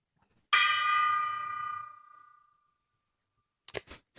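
A single gong stroke rings out once, loud and close, its shimmering tone decaying over about two seconds into silence before brief noises at the end.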